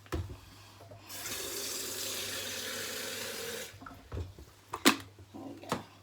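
Hot water runs from a kitchen tap for glass noodle soaking, a steady splashing rush for a few seconds that stops, followed by a few clicks and knocks of handling in the sink.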